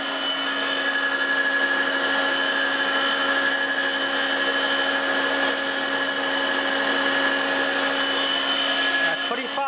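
An old 440 RPM electric motor, decades in service, spins fast on a variable frequency drive, giving off a loud, steady whine with sustained tonal hums that hold even for the whole stretch.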